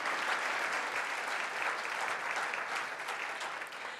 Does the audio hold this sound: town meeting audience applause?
yes